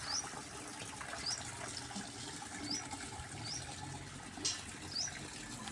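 A tap runs in a steady, faint hiss of flowing water, while a bird chirps at regular intervals over the top.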